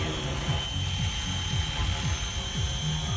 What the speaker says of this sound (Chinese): 这样的遥控直升机大家喜欢吗？